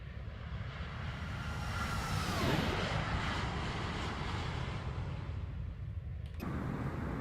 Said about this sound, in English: I think that calls for a flyby.